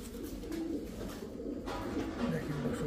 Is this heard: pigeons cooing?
yes